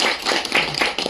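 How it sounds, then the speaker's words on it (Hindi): A live audience at a product demonstration claps briefly for a man being introduced, a dense burst of hand claps filling about a second at close range. "अलकेश भाई के लिए एक जोरदार तालियां सर।"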